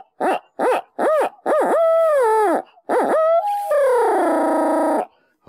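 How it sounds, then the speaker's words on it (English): Hand-held shock gobble owl locator call used for turkey hunting, blown through a hands-free hoot enhancer: a series of loud, close, rising-and-falling hoots, four short ones then longer drawn-out calls, no talking. "shock gobble owl call with Hoot Enhancer"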